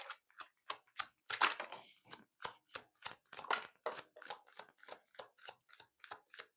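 Tarot cards being selected from a deck for a Sagittarius reading, a steady run of close, crisp papery flicks and riffles in a regular rhythm, with a brief burst of rustling shuffle midway.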